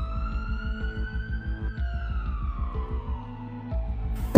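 Ambulance siren sound effect, a single slowly rising then falling wail over a fast throbbing engine-like pulse, loud and close, cut off by a sharp burst at the end.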